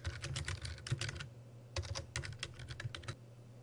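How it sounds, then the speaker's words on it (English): Quiet, close computer keyboard typing in two quick bursts of clicky keystrokes separated by a short pause. "and then typing in your text"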